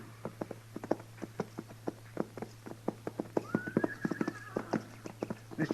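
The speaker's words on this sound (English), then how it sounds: "Mr. Dillon, what do you figure them horses are doing down there?" Horses in a western setting walk with a steady, close clip-clop of hooves, and partway through one gives a clear rising whinny over the continuing footsteps and a low background hum.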